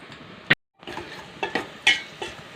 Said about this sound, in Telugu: ముంతమామిడి పప్పు, ద్రాక్ష వేసి బాగా ఈ ద్రాక్ష పొంగేలాగా వేయించుకోవాలి బాగా